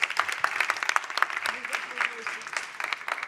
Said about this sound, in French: je pense qu'on peut les applaudir, hein,